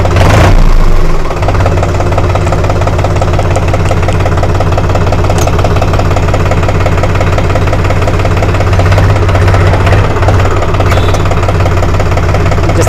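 A New Holland 47 hp 4x4 tractor engine runs steadily up close, a loud, even diesel chug with vibration, with a brief sharp clatter at the start and no speech over it.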